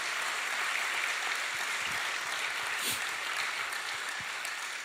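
A large congregation applauds at a sermon-style talk, a dense, sustained wash of clapping heard at moderate distance, steady throughout with no voices on top.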